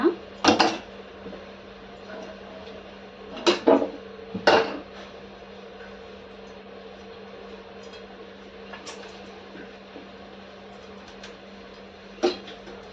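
A knife cuts raw mango pieces for pickle in a home kitchen, giving scattered sharp knocks against a board, a few close together and others seconds apart, over a low steady hum.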